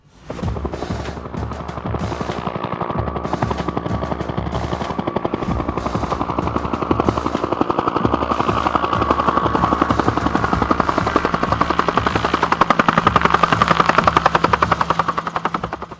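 Continuous heavy rotor thump and turbine whine of a Vietnam-era medevac helicopter, loud and close with rapid beating blades, mixed with bursts resembling gunfire.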